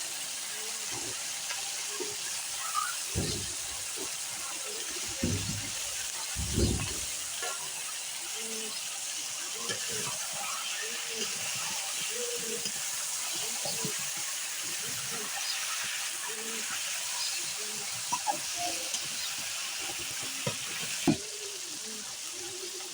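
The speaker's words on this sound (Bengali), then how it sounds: "মাংসটাকে মশলা দিয়ে একটু কষাইলাম, একটু ভাজা ভাজা করলাম।" Chicken curry meat and potatoes sizzle in oil and spices over village-style heat, a steady low frying hiss with scattered pops and stirring knocks running throughout.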